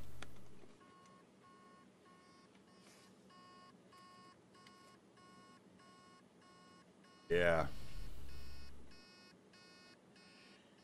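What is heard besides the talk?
hard drive with heads stuck on platter beeping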